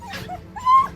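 A hunting dog searching for voles lets out short, high whimpers and yips at close range, with a brief pause between two small bursts of whining.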